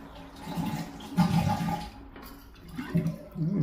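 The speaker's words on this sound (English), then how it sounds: "I'm going to drain all the rest of that water out of there." Water drains from a toilet tank during a valve repair, flushing and gurgling as it drains away, with several rushing surges over a few seconds, close by and fairly loud.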